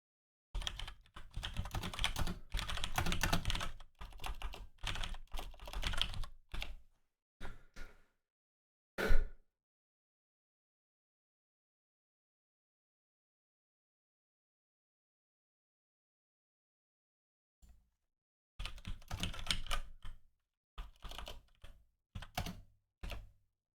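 Someone types on a computer keyboard in rapid clattering bursts, a long stretch of silence in the middle, then another run of fast keystrokes; fairly quiet and close, with no talking.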